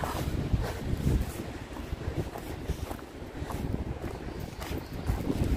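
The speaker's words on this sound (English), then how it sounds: "Trying to stay out of the wind, but it's not always going to be possible." Wind gusts roar steadily across an open cemetery, a low buffeting rush with microphone rumble that swells and eases throughout, with no voices.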